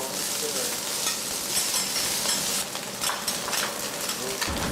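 Sizzling oil and repeated forceful scraping of a metal spatula across a hot iron griddle while stir-frying osmanthus mock shark fin, a continuous crackle punctuated by sharp scrapes.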